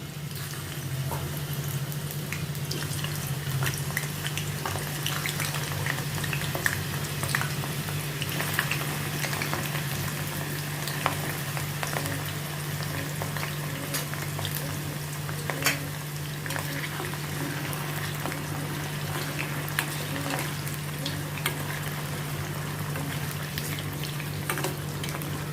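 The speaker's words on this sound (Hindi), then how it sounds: "इसमें अभी पहले मैं ये टिंडे फ्राई कर लेती हूँ।" Tinda, or apple gourd, half-frying in hot oil on a gas stove, giving a soft, steady sizzle with occasional pops and faint stirring, alone with no voices over a constant low background hum.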